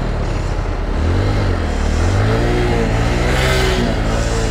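A car engine revs loudly and close, rising and falling in pitch through several throttle pulls while held in fourth gear, with no talking.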